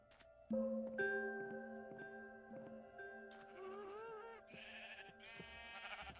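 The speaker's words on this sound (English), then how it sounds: "I got sheep to trim." Sheep in the Minecraft video game bleat several times in clear, wavering synthetic calls, overlapping one another in a quiet scene with no talking.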